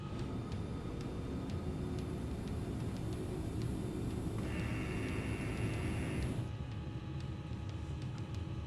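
Airliner engines roar steadily during a takeoff climb, a dense continuous drone with a thin high whine that shifts partway through, loud and unbroken with no voices.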